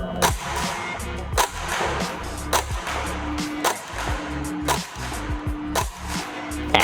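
Tokyo Marui MWS M4 airsoft rifle firing at a range, a series of sharp, loud single shots spaced about a second apart over a steady mechanical background.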